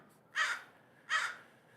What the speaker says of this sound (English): The crows, bro.